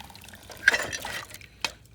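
A metal parts basket is lowered into parts-washer liquid while cleaning parts from a 1966 Ford Country Sedan wagon, giving faint sloshing, dripping and a couple of light clanks close by.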